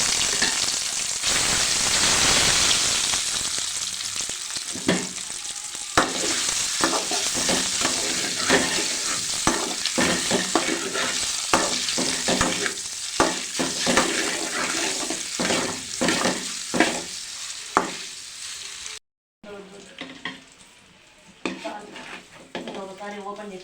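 Boiled eggs frying in oil with chili powder, turmeric and salt while being stirred in a pan; steady sizzling runs throughout, with repeated utensil scrapes and clinks, close and fairly loud, briefly cutting out near the end.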